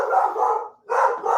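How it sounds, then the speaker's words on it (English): A dog barks loudly and close by in two sustained bursts separated by a brief pause. "Lily, there's a dog walking by. That's why Lily's barking."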